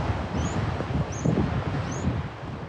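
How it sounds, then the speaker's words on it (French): Steady outdoor wind on a sea cliff in Ireland rumbles and buffets the microphone, with a few faint high chirps of seabirds passing above the gusty noise. "quand la pluie s'ajoute au vent"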